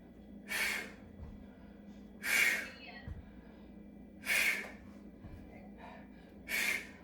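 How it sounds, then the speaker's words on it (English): Exercisers exhaling hard as they drive their knees up during a seated strength workout, four forceful breathy bursts at a steady rhythm about two seconds apart. "I like to hear the breath"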